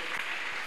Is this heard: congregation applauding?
yes